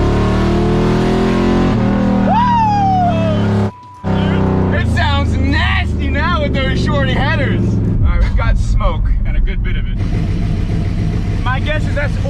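Project car engine running rough after a power steering delete, a loud, close idle and rev with a nasty tone, heard under frequent talking and brief chirpy sounds.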